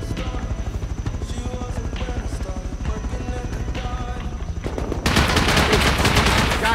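Rapid gunfire from a helicopter hovering over players in the video game Rust, dense repeated shots with rotor drone throughout, growing louder and harsher in the final seconds, with people talking over it.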